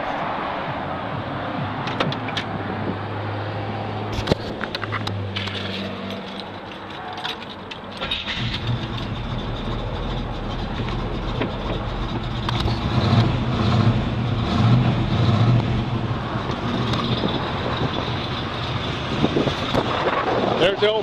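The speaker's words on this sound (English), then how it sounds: "I'm going to start this one up and let you listen to it." A 1969 Chevrolet Camaro V8 cranks over and catches, then settles into a steady rumbling run, heard close by with some handling clatter and jangling early on and a speaking voice at times.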